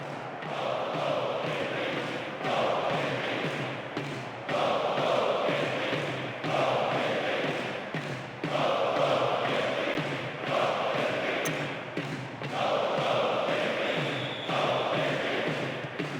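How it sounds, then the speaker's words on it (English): Football stadium crowd at a Champions League match between PSV and Atlético de Madrid, a distant, continuous roar of jeering that swells and dips in repeated waves. "The crowd giving both manager and players some serious stick."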